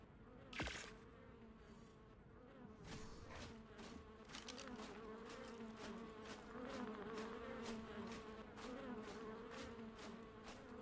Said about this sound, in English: I can hear mosquitoes.